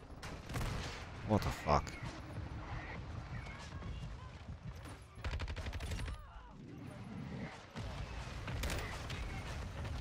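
Mortar strikes and heavy gunfire in the online shooter Modern Warfare 2, a battlefield din of booming blasts and rattling shots that runs steadily, with a voice cutting in near the start.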